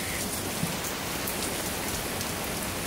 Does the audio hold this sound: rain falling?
yes